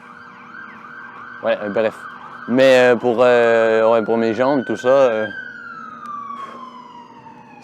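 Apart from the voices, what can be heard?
police or ambulance siren passing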